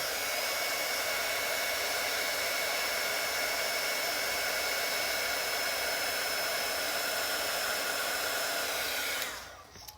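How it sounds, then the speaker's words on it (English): A heat embossing tool blows hot air over embossing powder to melt it, a steady loud hiss like a hair dryer running continuously for about nine seconds before cutting off at the end. "So that just takes a second to heat emboss."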